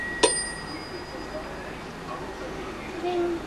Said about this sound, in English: got a new bell on his bike